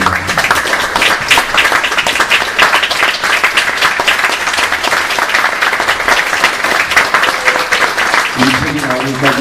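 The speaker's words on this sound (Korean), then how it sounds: "수고하신 모든 분들께 정말 큰 격려의 박수를 부탁드리겠습니다" Dense, steady audience applause fills a hall at a theatre award ceremony, loud and continuous throughout with a crowd murmur beneath, and a brief voice emerges near the end.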